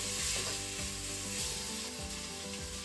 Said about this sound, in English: Now that the temperature is up to approximately halfway, we can add the pork. And give that a quick stir.